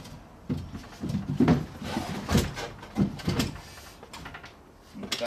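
Big wooden drawer of a 100-year-old trunk sliding open and shut in repeated rough scraping bursts, close and moderately loud, with a few knocks between strokes.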